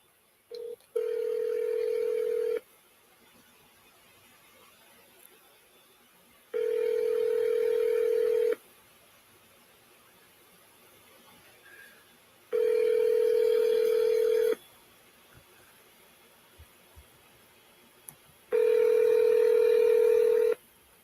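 Telephone dialing and ringback tones on an outgoing call, four long steady tone bursts of about two seconds each separated by quiet gaps, clear and alone with no talking.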